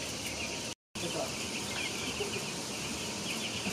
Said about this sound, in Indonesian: Ayam broiler atau ayam pedaging.